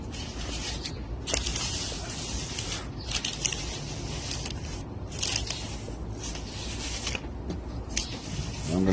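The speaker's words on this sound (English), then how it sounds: "spray him down with a gloss." Several short hissing bursts from a spray can of gloss coating a carved figure, spaced a second or two apart, close by, over faint rustling handling noises.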